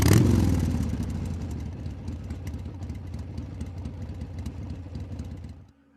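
A motorcycle engine starts with a loud rev, then settles into a close, clattering idle that holds steady for several seconds before stopping suddenly.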